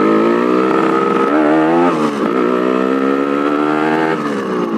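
A Yamaha RX-King two-stroke motorcycle engine revs close and loud, holding a steady buzzing drone that swells and dips in pitch several times with no one talking.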